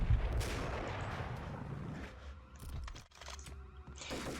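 Gunfire from the Max Payne video game, a dense burst of sharp shots and rattling clatter that fades into quieter game ambience and a few faint clicks.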